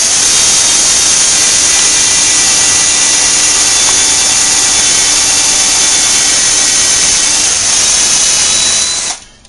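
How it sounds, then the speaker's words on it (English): A power drill bores through an Ikea cabinet door with a loud, steady high-pitched whine held at constant speed for about nine seconds, cutting off abruptly at the end, with no talking. "use the pressure of the drill as it pulls it through and not apply a lot of pressure"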